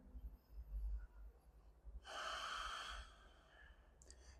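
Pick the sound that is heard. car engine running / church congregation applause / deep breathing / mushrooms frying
deep breathing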